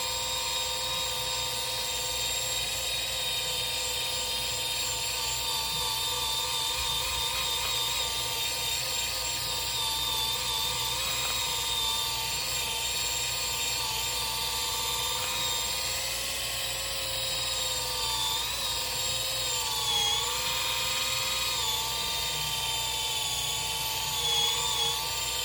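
A Let's Resin sander and polisher works a flat resin piece, giving a steady high-pitched motor whine with shifting tones that runs continuously and evenly throughout, with no talking.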